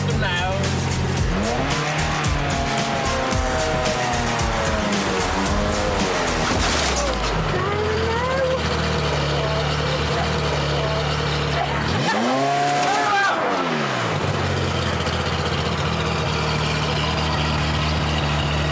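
A car driving on a race circuit, its engine revving up and down loudly with tyre squeal and skidding, then settling to idle before revving again, while people talk over it.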